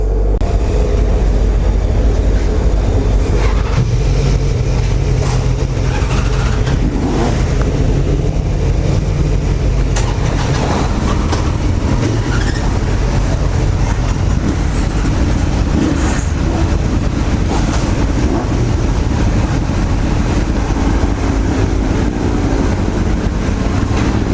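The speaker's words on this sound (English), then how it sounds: "Riding through a train," Constant loud rumble and rattle from inside a moving train, with steady low-frequency roar and clattering throughout.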